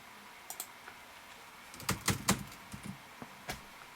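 Close, faint typing on a computer keyboard: scattered single clicks, then a quick cluster of louder keystrokes in the middle, over a soft steady background hiss with no voices.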